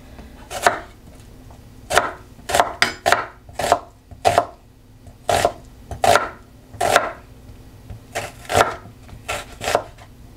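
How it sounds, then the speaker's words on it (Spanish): A knife chops onion on a board in steady bursts of crisp, near thuds, with more than a dozen cuts in quick clusters and short pauses between them. "ahora voy a cortar lo que es la cebolla, la cebollita"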